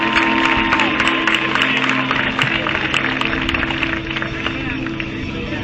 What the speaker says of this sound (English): How about one more round of applause for your teams in this week's tournament?